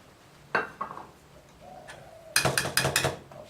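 A plate is handled while rice is plated up: a few scattered clinks and taps, then a quick cluster of sharp ceramic knocks and scrapes close by, with a brief low hum in between.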